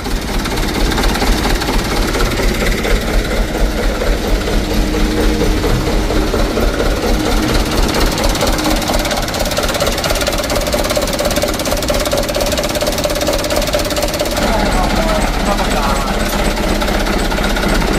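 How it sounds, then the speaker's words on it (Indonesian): A Mitsubishi Canter truck diesel engine with a plunger fault runs after a long, hard start, giving a loud, rough, rapid knocking clatter close up that holds steady throughout, with a voice talking faintly underneath. "starternya hidupnya itu sulit, starter panjang"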